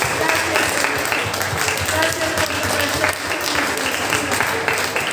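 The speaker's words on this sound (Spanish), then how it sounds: "unas fuertes palmas, Señor" A church congregation claps loudly and steadily during a Sunday service, with a voice speaking over the applause.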